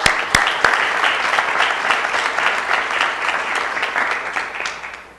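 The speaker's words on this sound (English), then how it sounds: "Let's give them one more round of applause." Sustained audience applause fills a city council meeting, dense and steady for several seconds with a couple of sharp louder claps near the start, then tapering slightly toward the end.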